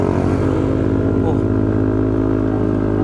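Single-cylinder 150cc motorcycle engine running steadily with a loaded, constant drone while climbing a steep road, loud and close throughout, with a voice talking over it.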